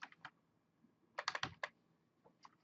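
Faint computer keyboard typing, a few scattered clicks and then a quick cluster of keystrokes, with no talking.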